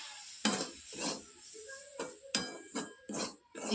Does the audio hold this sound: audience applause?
no